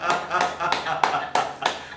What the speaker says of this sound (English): Now start clapping, come on.